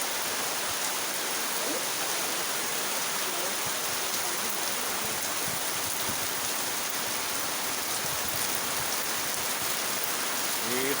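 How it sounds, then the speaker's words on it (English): Heavy night rain pours steadily in Goa during the December season, with water gushing in a loud, continuous, dense rush that lasts from start to finish. "Such heavy rain, see the gushing of water actually."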